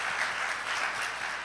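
A church congregation at a 50th-anniversary Explo 74 worship service claps together, giving a steady, dense wash of applause that stays even and unbroken from start to finish with no voices on top.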